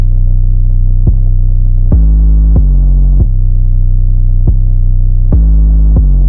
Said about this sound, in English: I don't really know if this 808 is in key or not.